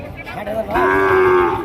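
A Sahiwal heifer moos once at a cattle market, close and loud, a sustained low call lasting about a second after brief background noise.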